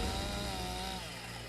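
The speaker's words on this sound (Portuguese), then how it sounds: "Para isso, usam uma motosserra." A chainsaw runs at a steady high whine, loud and close, cutting the horn of a rhinoceros during a dehorning operation in South Africa, with its pitch dropping slightly as the cut proceeds.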